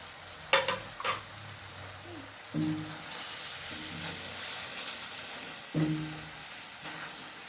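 Chicken pieces added to a hot masala and fried for kofta, a soft steady sizzle broken by several knocks and scrapes of stirring, with no talking.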